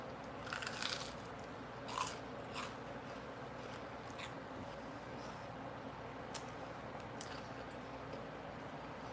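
Crunchy sweet-breaded food with spicy sauce being eaten close to the microphone, with a few sharp crisp bites and soft chewing over a low background hum.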